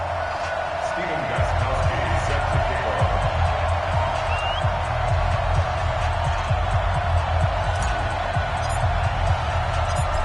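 Stadium crowd noise from a Madden NFL video game, Atlanta Falcons against Chicago Bears, a steady dense roar of cheering fans with low rumble filling the whole stretch, loud and continuous.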